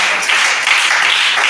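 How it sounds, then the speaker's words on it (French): A church congregation claps together in worship, a dense, loud, continuous burst of applause with no gaps. "Acclamez chacun."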